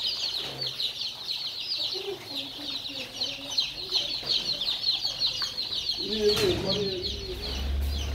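Hens and young chicks at a backyard poultry yard: a steady chorus of high, thin chick peeping runs throughout, with lower hen clucks scattered across it. A louder cluster of clucking comes near the end, close by.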